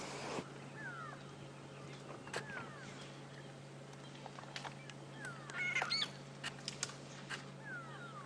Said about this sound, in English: You may just be able to hear the sound of the grey lory or the grey go-away bird going where all around us.